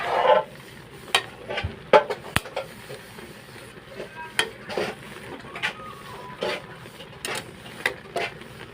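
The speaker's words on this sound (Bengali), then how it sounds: "কমে গেছে, নেড়ে চেড়ে দিচ্ছি" Taro leaves frying in a pan are stirred, with a spatula scraping and tapping in irregular strokes over a soft, steady sizzle.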